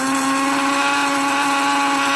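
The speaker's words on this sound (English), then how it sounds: "I'll grind that to a fine powder" An electric grinder whirs at full speed, pulverizing dried herbs into a fine powder for a homemade herbal shampoo, a steady high-pitched motor whine with a strong tonal hum, loud and close, no talking.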